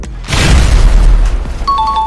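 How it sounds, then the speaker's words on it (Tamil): A sticky bomb detonates in Grand Theft Auto V, a loud booming blast with a heavy low rumble that swells quickly and fades over about two seconds, with faint game tones at the end. "பட் ஸ்டிக்கி பாம்பு நடந்தால் வெடியுமா?"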